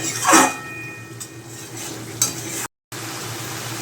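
Egg curry masala with potato and capsicum is stir-fried in a pan, with a metal spatula scraping and clinking against it over a soft, continuous sizzle and a brief gap of silence near the end.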